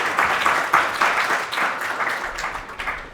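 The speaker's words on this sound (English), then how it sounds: "So we applaud her as well" Audience applause at a 2019 symposium on anti-Zionism and antisemitism, a moderate burst of many hands clapping that gradually tapers off.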